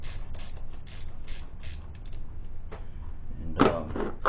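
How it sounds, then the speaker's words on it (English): Repeated ratchet clicking as an 8mm socket loosens the air intake clamp on a 1995–2001 Ford Explorer, several short bursts up close, followed by a louder clatter near the end. "I'm going to use an 8mm socket to get this clamp off"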